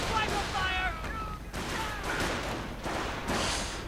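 Gunfire exchanged between infantry and a Panzer tank in a World War II strategy game: steady crackling rifle and machine gun bursts with muffled booms, under a commentator's ongoing speech.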